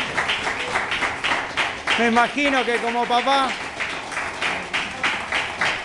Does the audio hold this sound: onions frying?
no